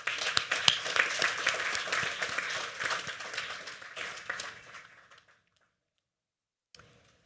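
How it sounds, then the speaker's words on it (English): An audience at a technical school graduation ceremony in the Virgin Islands claps for several seconds, a dense patter of many hands that thins out and fades, followed by silence and a last brief sound. "May we applaud."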